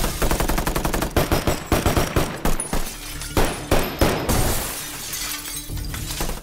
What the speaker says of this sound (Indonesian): mulai melepaskan tembakan kepada para perampok